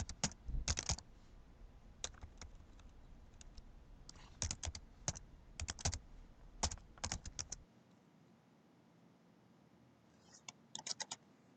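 Close, quiet keystrokes on a computer keyboard come in irregular bursts of rapid clicks, pause after several seconds, then resume with a brief final flurry.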